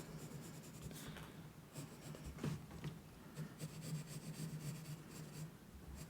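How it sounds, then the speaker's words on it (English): A pencil draws lines on paper for block graphic lettering, making a soft, continuous scratchy rub with small stroke-by-stroke swells, close and very quiet, and no one speaking. "if I just draw these back lines here"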